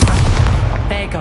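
Confringo spell blast in a video game, a short heavy booming burst with a rumbling low thump, loud and close, fading quickly after the hit.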